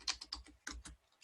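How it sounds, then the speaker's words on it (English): Fast, light keystrokes on a computer keyboard, about nine close clicks in quick bursts with a short pause in the middle, quiet and heard alone. "I'm going to type Merry"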